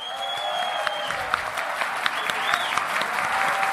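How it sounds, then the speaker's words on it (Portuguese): A crowd at a municipal guards' event stands and applauds the mayor of Buriti, Maranhão, producing sustained, fairly loud clapping with sharp individual claps and a whistle cutting through. "E todo mundo levanta para aplaudir."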